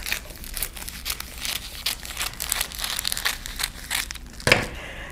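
Sheets of cellophane wrap being cut and handled for festive flowers, a dense close crackle of crinkling plastic throughout, ending in a sharp louder crunch.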